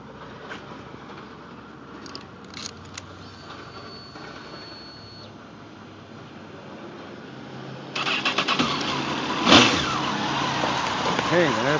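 A stock-exhaust 2002 Honda CBR954RR motorcycle engine starts about two-thirds through after low background noise, settling into a loud, close idle with a brief rev blip; a person talks early on.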